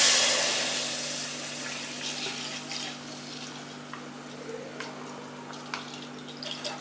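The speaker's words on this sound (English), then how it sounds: "Now in another vessel, let us pour some milk and boil it." Milk poured into a cooking vessel for semiya payasam, a soft liquid splash that is strongest at the start and tapers into faint trickles and drips over several seconds.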